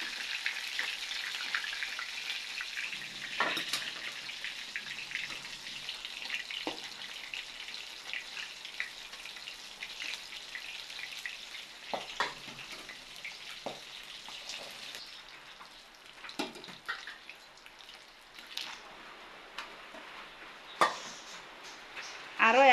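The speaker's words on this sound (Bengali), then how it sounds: "দেখুন দেখুন লাল করে ভেজে নিচ্ছি," Rohu fish heads fry in hot oil, giving a steady soft sizzle with scattered pops and light stirring clatter. The sound stays fairly quiet throughout, with a few sharper crackles near the end.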